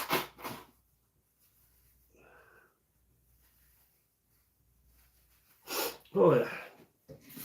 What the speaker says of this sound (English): I do apologise, I need to blow my nose.